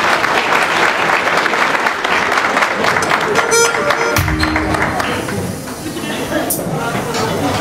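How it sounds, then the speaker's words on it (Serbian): An audience at a charity concert for Asmir Manjgafić gives loud, sustained applause for Denis Barka. The clapping is dense and continuous, thins out toward the end, and has cheering and voices mixed in. "Ajmo jedan ogroman aplauz za Denisa Barku."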